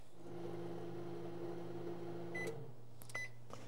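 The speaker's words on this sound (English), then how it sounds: "you want to microwave this in the microwave for probably about a minute until it's melted together" A microwave oven melting margarine hums steadily up close for a couple of seconds, then winds down and gives a few short electronic beeps, with no talking.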